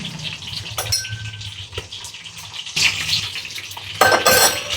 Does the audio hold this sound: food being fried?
yes